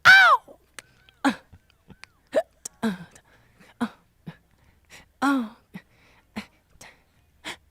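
Owl hoots closing a recorded soul song, a series of short, sparse hooting and squawking calls separated by silence, clear and fairly close, with no music or talk beneath.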